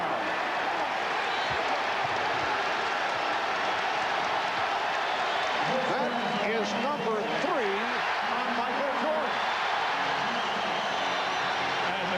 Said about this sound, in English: And the crowd obviously loves it